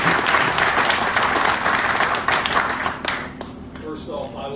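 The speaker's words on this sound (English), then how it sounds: "Let's give him a great big round of applause." An audience at Johnston Seed's 125th anniversary celebration applauds loudly with dense, close clapping that thins out and fades over the last second or two.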